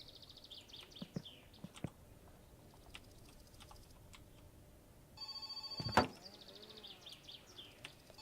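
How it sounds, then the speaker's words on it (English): A telephone in the video game My Summer Car rings out loudly near the end, a sharp electronic bell sounding over quiet clicks and tapping from engine building. "Oh, there's the phone again."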